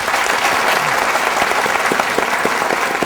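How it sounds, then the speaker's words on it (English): Audience applause for a panel at a talk on the internet economy, a loud, dense and continuous round of clapping filling the room without pause. "Can we please have a round of applause for the panel?"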